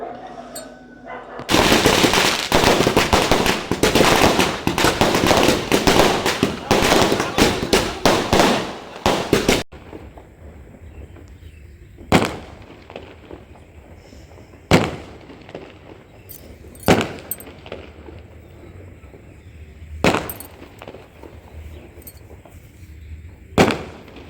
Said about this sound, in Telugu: ఇవి చూడండి ఈ టపాసులు